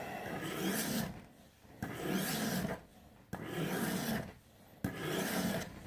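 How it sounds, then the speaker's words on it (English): A knife blade is drawn tip to heel across the 600 grit side of a sharpening stone, making four long rasping strokes with short pauses between them, close and clear with no talk. "when I'm stropping on the heavy grit, this is a 600 grit side of the stone"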